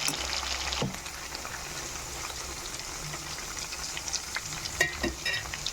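Chicken pieces fry steadily in oil for a chicken pickle, a continuous sizzle and crackle with a few brief clattering stirs.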